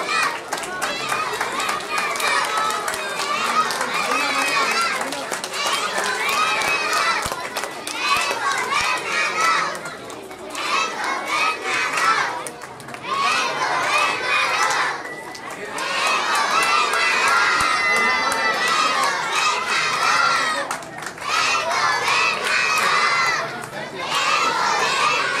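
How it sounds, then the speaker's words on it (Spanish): A large crowd of children at a school inauguration in Iguala applauds and cheers for the governor, shouting and clapping loudly in long surging waves with brief dips, excited voices mixed throughout. "Fuerte ese aplauso para nuestro gobernador."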